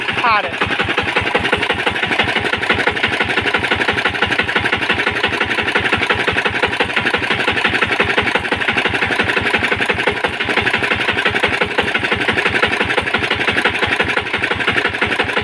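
A Yanmar diesel engine runs steadily throughout, a loud, rapid rhythmic chugging and knocking with no pauses, heard up close.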